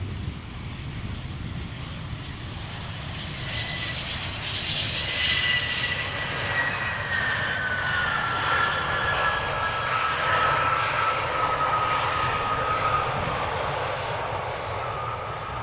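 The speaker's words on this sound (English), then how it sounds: "this one is the Embraer 190 arriving from Basel" An Embraer 190 airliner arriving at Amsterdam Schiphol on a flight from Basel, its jet engines giving a steady broadband roar with a high whine that sweeps slowly downward as it passes, loud and sustained throughout.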